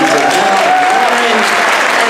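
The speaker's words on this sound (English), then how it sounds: "let's have a loud round of applause for New Hope Rising" An audience at a fundraiser event applauds, a dense, loud wash of clapping that holds steady throughout, with a voice faintly audible underneath.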